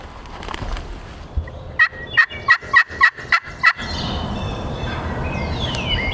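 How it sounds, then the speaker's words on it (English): A wild turkey gobbles in a bottom on public land during a spring hunt: a rapid burst of about seven loud, clipped gobble notes, fairly near and standing out clearly against quiet outdoor ambience. "I just called to him down in this bottom, and he gobbled right here."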